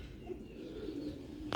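Old rooftop pigeons give a brief, soft, low coo, faint and a little distant.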